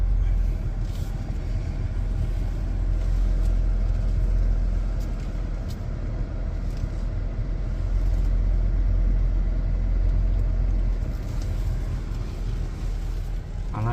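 An MG HS Trophy with an automatic gearbox reverses out, heard from inside as a steady low engine and road rumble, fairly quiet and unbroken, with faint ticking above it.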